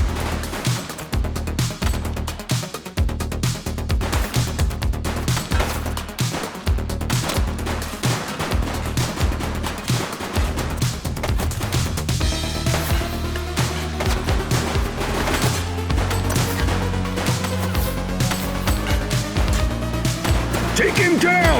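Rapid bursts of gunfire from a suspect shooting in the police video game The Precinct, loud and continuous, with repeated shots and crashing impacts over a steady background.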